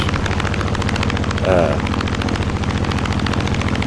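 F6F Hellcat warplane's radial piston engine in Microsoft Flight Simulator 2020, a steady loud drone with dense rhythmic pulsing throughout, a brief rising swell midway, under light talk.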